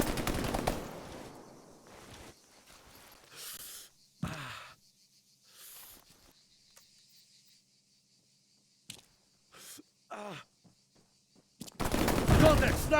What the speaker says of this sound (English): Contact machine gunner!